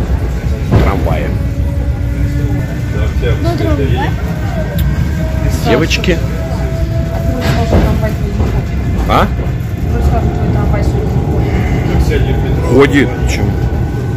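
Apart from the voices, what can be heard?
riding inside suburban electric train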